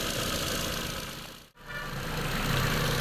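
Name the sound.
Ford Fiesta 2011 engine idling while warming up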